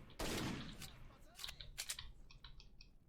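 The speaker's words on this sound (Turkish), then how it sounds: "Hop kafadan vurduk" Gunfire in the shooter game S.T.A.L.K.E.R. Shadow of Chernobyl: a loud blast followed by several sharper shots and a short burst of rapid clicks, with speech weaving through.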